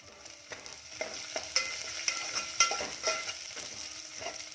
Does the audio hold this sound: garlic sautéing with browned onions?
yes